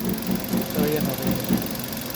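A Kia Pregio engine idles with new spark plugs fitted after earlier misfiring on cylinders 3 and 4, giving a steady mid-pitched rumble with a faint rhythmic pulse while someone talks over it close by.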